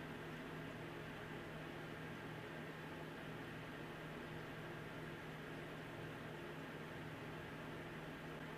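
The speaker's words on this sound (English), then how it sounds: "Now listening to the graphics card at 2300 RPM, which is its max stock fan speed for the Sapphire 480." A Sapphire Nitro RX 480 graphics card fan spinning at 2300 RPM, its maximum stock speed, gives a steady, even whoosh of airflow with a faint tonal hum, heard alone and unchanging throughout.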